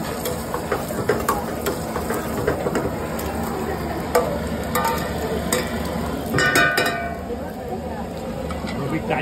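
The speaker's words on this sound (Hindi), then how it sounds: "तो पहले ये जो काजू है वो तेल में फ्राई किया जा रहा है।" Cashews fry in oil in a restaurant kitchen while cooking kaju masala, a steady near sizzle with clinks and stirring scrapes beneath, and someone talking over it.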